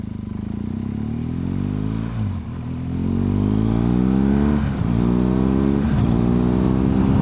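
A BMW motorcycle is ridden on the road, its engine note climbing steadily through the gears with brief dips at each shift, loud and close throughout with no voices.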